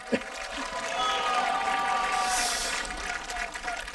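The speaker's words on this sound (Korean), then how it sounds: "우리 대통령님께도 큰 박수 부탁드립니다" A crowd at a Buddhist temple relic-enshrinement festival gives a soft, steady round of applause, a diffuse wash of clapping heard from a distance that swells and fades over a few seconds.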